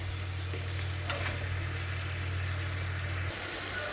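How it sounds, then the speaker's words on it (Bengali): Sliced onion sizzles in hot oil with salt and turmeric as the base for a golsa fish curry, a steady even hiss joined by a low continuous hum and one brief clink from the pan. "পেঁয়াজটা কিছুটা ভাজা হয়ে গেছে"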